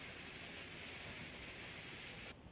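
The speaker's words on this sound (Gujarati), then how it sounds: "સતત વરસાદ વચ્ચે એક સહેજ પણ વિરામ વગરનો વરસાદ પડી રહ્યો છે" Continuous heavy monsoon rain pouring down in Mehsana, Gujarat, with a dense, even hiss of falling water that drops away sharply just before the end.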